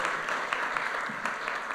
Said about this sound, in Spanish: yo quiero que le demos un fuerte aplauso a la gente de Ceremonial del Consejo